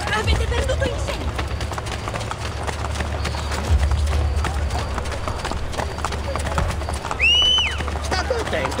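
Horse hooves clip-clop in a steady running rhythm through Assassin's Creed Brotherhood on PS5, close and continuous beneath a busy game ambience.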